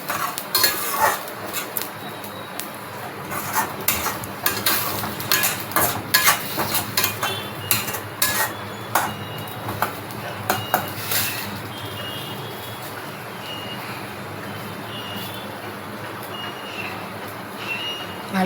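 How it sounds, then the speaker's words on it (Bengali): Onion with ginger-garlic paste is stirred and fried in a pan, with repeated metallic scrapes and clinks of a spatula over a steady frying sizzle. The rhythm is irregular and busy early on and calmer near the end. "এটাকে এবার ভালো করে পেঁয়াজটার সাথে কষিয়ে নেব।"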